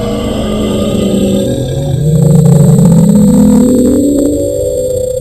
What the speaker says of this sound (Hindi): इसीलिए कई लोगों का मानना है कि शायद ये ब्लूप की आवाज होगी।